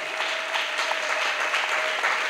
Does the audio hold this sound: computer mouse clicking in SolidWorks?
no